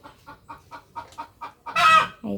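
Hens at a small poultry farm, let out early in the morning, give a rapid run of short close clucks followed by a louder drawn-out squawk.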